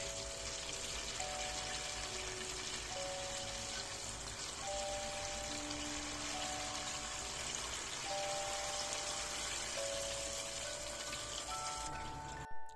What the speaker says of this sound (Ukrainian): трішки дала вам послухати, як шкварчать мої пампушки